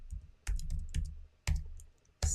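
Bursts of typing on a computer keyboard while searching for Sashiko needles: quick clusters of sharp clicks separated by short pauses, close and clear with no talk.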